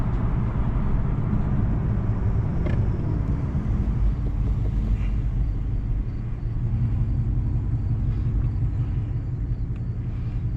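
A deep, steady naturally aspirated V8 engine rumble from a fifth-generation Chevrolet Camaro SS idles continuously, low and full-bodied, with no talking over it.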